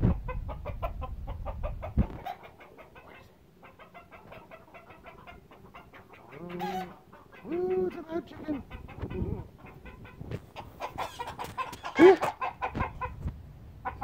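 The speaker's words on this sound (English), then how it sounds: "It's a chicken." A chicken clucks in short, repeated bursts close by, alternating with quieter stretches, while people talk over parts of it.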